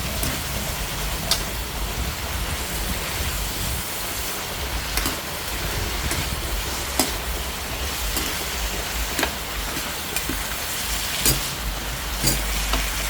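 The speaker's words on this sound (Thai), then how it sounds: "เดี๋ยวเราก็ผัดให้ใบยี่หร่าสลกก่อนนะคะ" Pork and cumin leaves stir-fried in a pan, a constant loud sizzling hiss throughout with occasional clicks and scrapes, close by and without talking.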